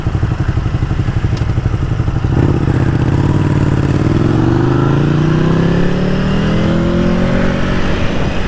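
A 2013 motorcycle on stock exhaust pipes idles with a rapid low throb, then revs up loudly and climbs steadily in pitch over several seconds, close and with no voices.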